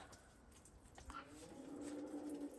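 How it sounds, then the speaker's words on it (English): A cow on a homestead gives a low, fairly faint drawn-out moo in the second half, heard over quiet outdoor ambience with birds, no speech. "That's a cow mooing."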